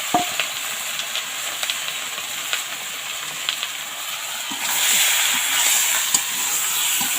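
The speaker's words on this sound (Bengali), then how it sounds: "মাংসটা কড়াইতে দিয়ে দিলাম, তেল গরম হয়ে গেছে, দিয়ে কষিয়ে সুন্দরভাবে কষিয়ে নেব।" Meat sautéing in hot oil in a wok, a continuous close sizzle with scattered scraping stirs, swelling into a louder hissing surge partway through.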